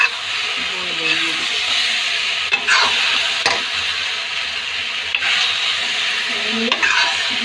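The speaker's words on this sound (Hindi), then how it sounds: "मसाले डाल दी हूँ इस तरीके से भून लेंगे।" Spices roast with potatoes and boiled chickpeas in a pan, a steady close sizzle broken by repeated scraping stirs of a spoon against the pan.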